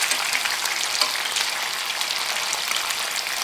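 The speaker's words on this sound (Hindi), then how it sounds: "पहले एक तरफ अच्छे से इसको गोल्डन फ्राई होने देंगे, फिर हम इसे पलटेंगे।" Chicken fries in a pan with a dense, steady sizzle and crackle like light rain. It sounds close and even throughout, and no one speaks.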